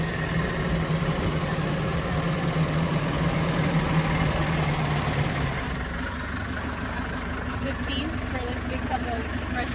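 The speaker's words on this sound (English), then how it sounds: "Watch out for the tractor." A tractor engine runs nearby with a steady, low idling rumble and a faint hum on top, easing off a little partway through as people talk over it.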